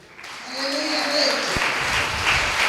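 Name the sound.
congregation applause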